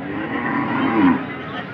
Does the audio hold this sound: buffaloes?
yes